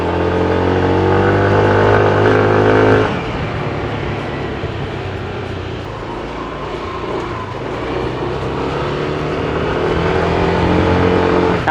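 A Yamaha NMAX Tech Max scooter rides along with a steady engine drone and wind rush, holding a loud, even tone, then easing slightly and swelling again as the rider moves on.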